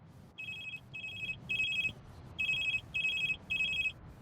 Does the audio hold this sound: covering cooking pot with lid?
no